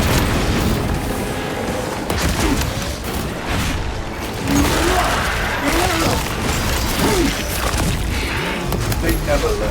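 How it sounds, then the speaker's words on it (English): Frag grenade blasts in the sci-fi shooter Warhammer 40k Space Marine 2, heavy booming explosions and crashing debris amid ongoing battle noise, loud and dense throughout. "Throwing frag grenade!"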